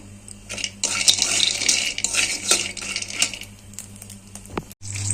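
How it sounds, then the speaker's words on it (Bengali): Bori lentil dumplings frying in a pan for a bottle gourd and egg dish, with a broad hiss of hot oil and repeated clinks and scrapes of a utensil against the pan, close by with no talk. "দেখো বড়ি ভেজে নিচ্ছি। বড়িগুলোকে ভেজে নেব।"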